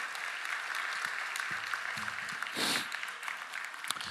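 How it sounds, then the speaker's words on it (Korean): A church congregation applauds softly at a confirmation service, a faint, distant patter of clapping with a brief louder swell near the middle. "우리 박수로 영광 축하드리겠습니다."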